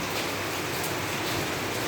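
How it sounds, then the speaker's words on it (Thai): Dense, steady hiss of heavy rain pouring down without a break. "ฝนตกหนัก"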